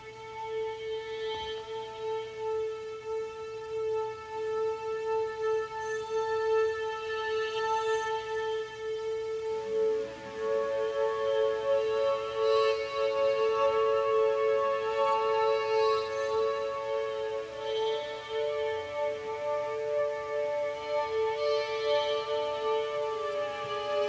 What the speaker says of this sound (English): so I played some extra synthesizer parts myself